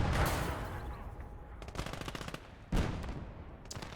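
Gunfire in the Gates of Hell video game during a tank battle: several sharp, loud bursts and single shots separated by short gaps, with a rattling machine-gun texture between them.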